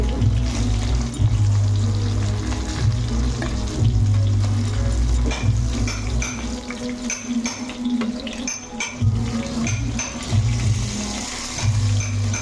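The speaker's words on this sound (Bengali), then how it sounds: "আবার তেলে আবার মাছগুলো আমি দেখো ভেজে নিচ্ছি।" Rohu fish pieces rubbed with turmeric and salt frying in hot oil, a steady close sizzle and crackle with occasional stirring and spatula scrapes throughout, no talking.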